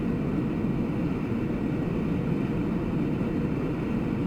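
A TF-104 Starfighter jet cruising at high speed in a flight simulator game, a steady loud engine roar and rushing drone that holds constant throughout with no talk.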